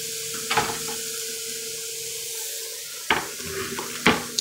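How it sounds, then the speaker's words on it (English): Burger meat sizzling in a frying pan, a steady crackling fry with a few louder bursts of hissing and scraping as the patty is laid in and moved, close up and without talk. "Now, we're going to take meat and put it in the pan."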